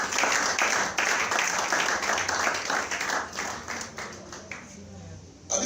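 A church congregation applauds and cheers in praise of God, a dense burst of clapping and acclamation that gradually thins and fades, with voices mixed in.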